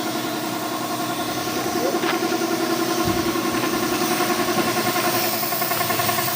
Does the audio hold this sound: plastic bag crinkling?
no